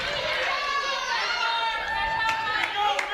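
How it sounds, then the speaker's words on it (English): A crowd cheering and chattering at a girls' high school basketball game, Bishop Hartley versus Bishop Watterson, a steady dense roar of voices with sneaker squeaks and scattered shouts throughout. "And the crowd erupts on the Bishop Hartley side."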